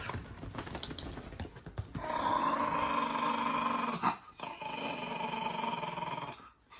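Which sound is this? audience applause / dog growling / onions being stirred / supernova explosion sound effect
dog growling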